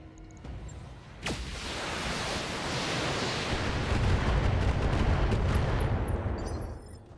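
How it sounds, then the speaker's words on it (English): A Gauss rifle fires in the mech combat game Battletech, opening with a sharp crack that swells into a long, loud rumbling roar before fading out. "My Gauss rifle, let's actually fire it"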